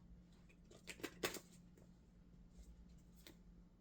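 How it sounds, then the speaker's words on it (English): Quiet papery riffling and flicking, with a short cluster of crisp bursts near the start, then a few softer rustles. "Wait, one more shuffle."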